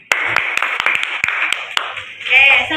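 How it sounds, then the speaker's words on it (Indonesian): Students in a biology class applaud a group presentation, a run of about a dozen sharp, fairly regular claps close by, with voices talking over them and rising at the end. "Kita beri tepuk tangan."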